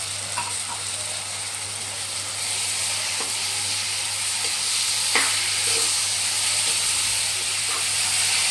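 Chopped tomatoes and green chilies fry in a pan with a steady, hissing sizzle, close and continuous, with a few faint clinks of stirring.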